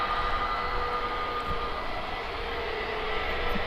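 An EasyJet jet airliner takes off from Birmingham airport, heard as a steady, fairly distant broadband engine roar that holds at an even level throughout, with no talking.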